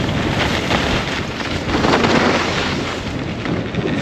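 Steady, loud wind buffeting the microphone, a constant broadband roar with no voices, lasting several seconds.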